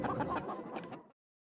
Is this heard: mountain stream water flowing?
no